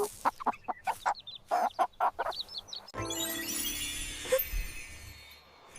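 A hen clucks in a series of short, sharp bursts, close and loud, then the sound shifts to a dense, noisy wash of farmyard clatter.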